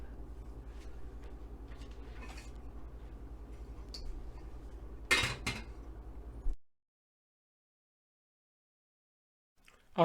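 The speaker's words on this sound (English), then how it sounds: "And I'll cover the lid." A loud, short clatter as a lid is set onto a pot of slowly simmering cabbage, a pair of close metallic knocks over low kitchen hum before the sound cuts to silence.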